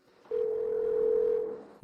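Steady telephone dial tone, a single continuous hum lasting just over a second before cutting off, clear and close with no talking.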